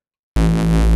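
A bright, buzzy unfiltered synthesizer oscillator tone in SynthVR starts abruptly after a brief silence and holds steady, rich in harsh overtones with no filtering.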